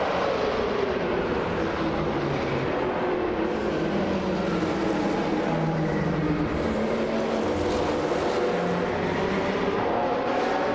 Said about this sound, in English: GGOD has launched into the lead right from the start, showing a strong acceleration